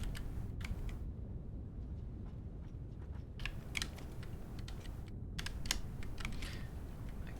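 Typing on a computer keyboard while playing a PC factory-building game: a steady run of close, crisp key clicks with short pauses, some taps louder than others, over a low background hum.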